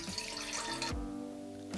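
Water pours steadily into a bowl for a rye sourdough starter, a close, continuous splashing stream whose pitch rises as the vessel fills, with a brief pause and a short final trickle.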